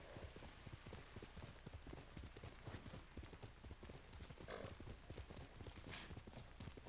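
The horse Nobu trots in Ghost of Tsushima, a steady, rhythmic clip-clop of hooves that runs throughout, close and fairly quiet over a faint ambient bed, with a brief whinny-like sound near the middle.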